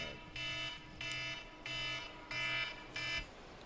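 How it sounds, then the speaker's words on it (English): Alarm sounding during a game of Manor Lords, five evenly spaced buzzing pulses about half a second each, moderately loud over a low steady background. "The alarm went off."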